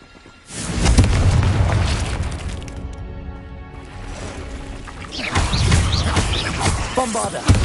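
Confringo fire spell blasting in the Hogwarts Legacy video game: a loud, booming explosion with crackling debris that rumbles and fades, then a second burst of crashing impact, with no voices over it.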